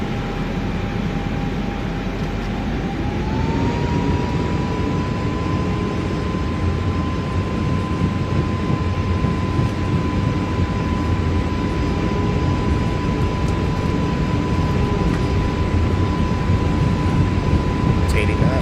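Airbus A320neo jet engines spooling up on a takeoff roll in Microsoft Flight Simulator 2024: a steady, loud roar with a whine that climbs in pitch and then holds, continuous throughout.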